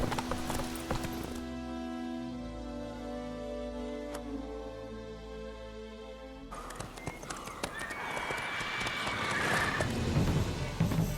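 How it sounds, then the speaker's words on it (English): Horse hooves clip-clop steadily in The Witcher 3, a galloping rhythm over a continuous game soundtrack, with occasional whinnying and no clear talk. "Whoa there, Roach."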